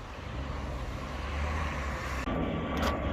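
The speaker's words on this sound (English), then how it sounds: "you can hear the plane, but you can barely see it" Steady broadband engine rumble from an airplane flying overhead on a misty day, a continuous distant roar with no voices, holding level throughout.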